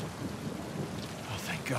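Heavy in-game rain and rumbling thunder from Uncharted, a steady close wash of downpour with a low roll near the end.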